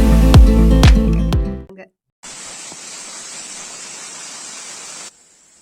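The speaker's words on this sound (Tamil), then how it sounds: "இப்ப நாம பாக்குற இந்த நீர்வீழ்ச்சியோட பெயர் பால் அருவி" Palaruvi waterfall in the Thenmala forest of Kollam, Kerala, gives off a steady, even rushing roar for about three seconds after a few musical tones and a short silence.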